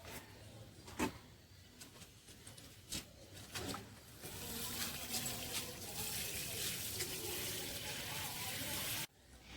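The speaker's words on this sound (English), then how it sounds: "Watering using rose can." A rose watering can showers water onto plants, with scattered light clunks at first and then a steady soft hiss of spray that stops abruptly near the end.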